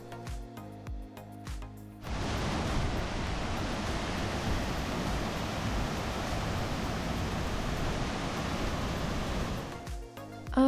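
Broad steady roar of water pouring at Punnayar Waterfalls, beginning abruptly after a brief lull and holding loud and even for several seconds before cutting off.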